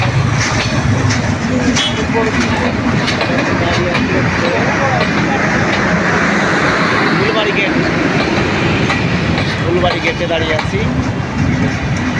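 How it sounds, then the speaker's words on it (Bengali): The Sundarban Express, running from Dhaka toward Khulna, rolls slowly past a rail crossing with a loud, steady rumble that lasts the whole stretch, while nearby voices murmur beneath it. "সুন্দরবন এক্সপ্রেস যাচ্ছে তো খুলনার উদ্দেশ্যে ঢাকা থেকে আসছে"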